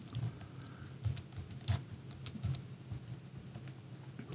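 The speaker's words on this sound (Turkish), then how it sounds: "Burada sırasıyla Windows, CTRL, Shift ve namluk tuşu bastığımız zaman" Computer keyboard keys pressed in a quick irregular sequence of light taps, fairly faint and alone with no voices, while a Windows shortcut is entered.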